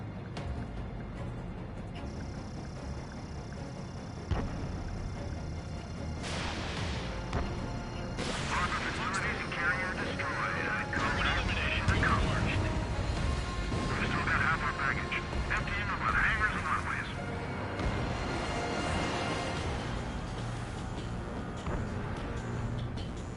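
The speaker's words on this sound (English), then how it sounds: "Missile away." Missile launch from a fighter jet in Ace Combat 7, an M4 long-range missile fired after a lock-on: bursts of rushing, booming noise over an airborne engine roar, with talk over the top.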